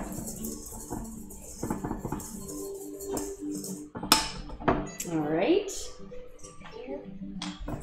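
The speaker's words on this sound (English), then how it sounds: "So we just whisked it all together." Ingredients for a Hungarian apple pie are whisked in a bowl, giving close clattering taps against the sides while a person talks over much of it.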